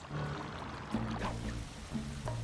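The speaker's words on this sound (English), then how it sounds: "Sly, the water pressure to the fountain should be disabled." Fountain water runs steadily in the video game Sly 2, a soft continuous pouring wash with faint game tones layered on top throughout.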